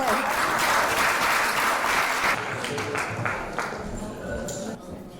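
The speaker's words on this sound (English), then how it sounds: "Applause for her." An audience at an evening talk show applauds a woman elected official, the clapping strong at first and then thinning and fading toward the end, with a voice briefly audible over it.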